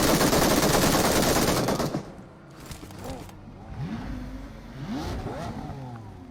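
Loud, rapid automatic gunfire in PUBG Mobile rattles for about two seconds; then vehicle engine sweeps rise and fall nearby as the shooting stops.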